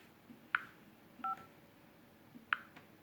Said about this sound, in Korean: 자, 그럼 1004번에서 1005번으로 내선 통화 해보겠습니다.